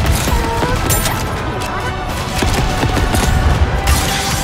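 Gunfire crackles in the mobile shooter game Goddess of Victory: Nikke as a loud, dense, continuous fusillade of rapid shots and impacts, with brief character voice lines mixed in.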